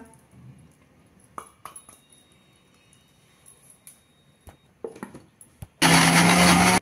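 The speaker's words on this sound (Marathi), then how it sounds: "ते आपण मिक्सरमध्ये घालून वाटून घेऊया" A mixer grinder switches on near the end and runs loud and steady while it blends a spice paste. Before that, clinks and taps of jars and utensils come in short, scattered knocks.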